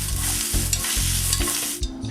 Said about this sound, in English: It's time to add our squash. Shred on top of that. Just going to want to mix it around.